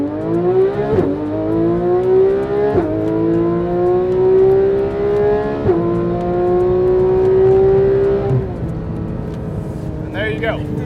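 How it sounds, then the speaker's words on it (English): A Porsche 991.1 GT3 RS flat-six revs hard and accelerates through several gears, each rising howl cut by a sharp shift, loud and close before easing off at the end. "One of the all-time great sounding cars, one of the all-time great sounding engines"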